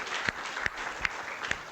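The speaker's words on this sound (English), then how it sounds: "give a big round of applause to all of you" Audience applause at a university freshmen welcome event, a steady wash of many hands clapping throughout with a few sharper individual claps standing out, moderately loud and without talk.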